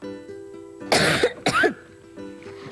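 Two sharp, close coughs in quick succession, the second slightly shorter, set against a quiet room with a faint steady hum and no talk.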